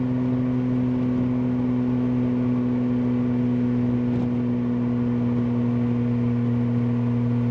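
A 1971 Jaguar E-Type Series 2 with a 4.2-litre straight-six and manual gearbox runs at a steady idle, giving a smooth, constant low hum with a strong, even drone. It is close, loud and unbroken, with no talk.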